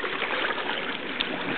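Water trickles and gurgles steadily into a kidney-shaped pool, a constant soft splashing flow that stays close and even with no voices.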